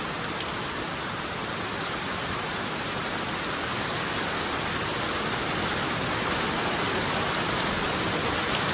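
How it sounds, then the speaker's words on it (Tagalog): Heavy rain falling in a constant, dense roar of drops on surfaces, loud and unbroken with no voices. "Lakas ng ulan, oh."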